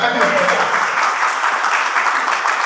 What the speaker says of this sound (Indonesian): Tepuk tangan buat Anda.